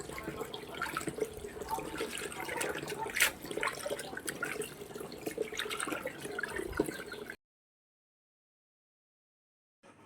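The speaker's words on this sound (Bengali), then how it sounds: "এখন আমি এগুলো ভালোভাবে ধুয়ে নেব।" Tap water running and splashing while leafy greens are washed by hand in a sink, a steady close rush with irregular splashes that stops abruptly near the end.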